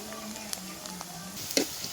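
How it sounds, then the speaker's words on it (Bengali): Onions fry in a pan for a duck curry, a faint steady sizzle with a few light clinks of stirring. "এখন আমি এটাকে ভালোভাবে ভেজে নিচ্ছি"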